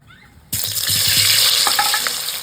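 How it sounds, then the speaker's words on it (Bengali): Boiled, turmeric-coated potatoes hit hot mustard oil in a wok and burst into a loud, steady sizzle that carries on after a quiet start, with faint scraping of stirring. "আলুগুলো হলুদ দিয়ে সেদ্ধ করে নিয়েছি এবার ভেজে নেবো"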